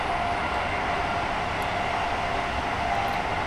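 Class 802 train running in Train Sim World 6 on the South Devon main line, a steady loud broadband rolling roar with a faint high whine, continuous and unchanging with no voices.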